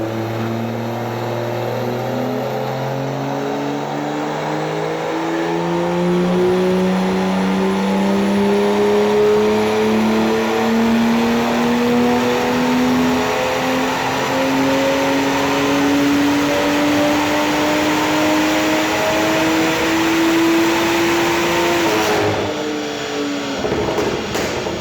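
A BMW M2 with a big turbo making 625 bhp on Sunoco GT 110 race fuel screams through a long, loud dyno pull, its engine note climbing steadily for over twenty seconds before cutting off abruptly.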